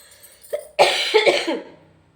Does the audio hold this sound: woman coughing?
yes